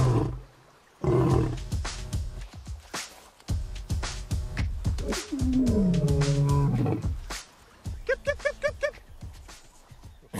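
A male lion roars repeatedly and powerfully up close, with deep drawn-out groaning calls building into a series of short grunting pulses near the end.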